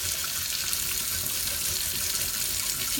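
Running tap water splashing steadily while a cast iron pan is washed with soap in a sink, a continuous close hiss with small scrubbing variations.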